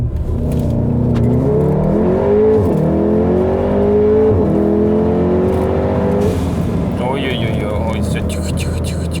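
A tuned VW Golf 7 R 2.0 TFSI at Stage 2, around 400 hp, pulls hard through several gears, the revs climbing and dropping at each shift, loud and sustained from inside the car, with talking mixed in.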